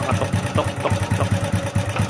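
A Honda Wave Alpha 100 motorcycle engine idles close by after an overhaul, its steady low chugging pulse overlaid with a rapid metallic ticking rattle from a worn timing chain.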